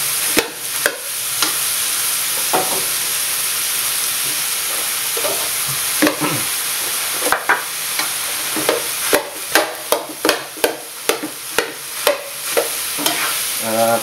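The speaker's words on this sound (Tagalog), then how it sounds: "Ito na yung pusit sa hipon, lagyan na natin yung rice." Rice stir-fried in a pan with squid and shrimp gives a steady loud sizzle, broken by repeated sharp scrapes and clanks of a spatula against the pan that come faster toward the end.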